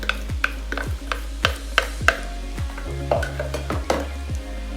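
Garlic sauce sizzles steadily in a pan as dry ingredients are stirred in, with regular scraping strokes and light clinks of a utensil against the pan repeating roughly every half second.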